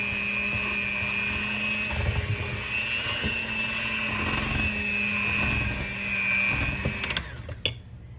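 Buttermilk batter for banana bread being mixed, a loud, steady mechanical whir that runs almost the whole time and ends with a few clattering knocks, with no talking.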